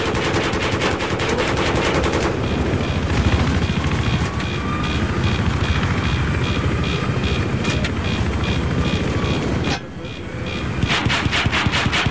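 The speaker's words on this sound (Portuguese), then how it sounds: "Helicóptero na B." Sustained machine-gun fire and an engine drone, likely a helicopter, fill a Battlefield 3 multiplayer Conquest match on Caspian Border, loud and continuous with a brief dip near the end.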